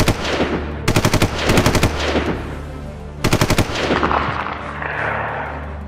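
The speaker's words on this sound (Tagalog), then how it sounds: "Umalingaw-ngaw na lang sa buong baryo ang mga putok ng baril." Repeated bursts of rapid automatic fire from an Armalite rifle in a Filipino village, two distinct volleys of tight rhythmic shots echoing over a dense, rumbling dramatic background mix.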